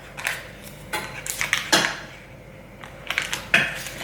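Butter being spooned into a microwave-safe dish in a home kitchen, several sharp clinks of a spoon against the dish in uneven bursts with quiet gaps between, close and clear.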